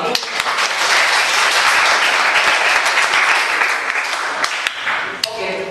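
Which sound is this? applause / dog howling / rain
applause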